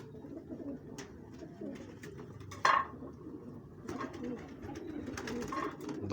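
Pigeons coo in soft, repeated murmuring calls close by, with a brief sharper clatter near the middle and a low background rumble throughout.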